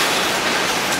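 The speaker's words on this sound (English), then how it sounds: "here comes our train" An Amtrak passenger train hauled by a P-42 locomotive arrives heading south on the Cardinal route, heard as a loud, close, steady rushing rumble of wheels on track.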